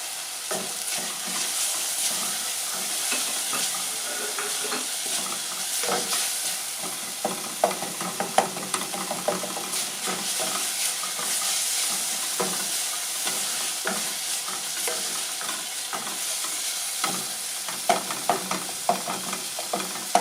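Capsicum stir-fried in a pan for a fried cabbage dish, giving a continuous hissing sizzle with scattered scraping and stirring clicks from a utensil, close and steady throughout.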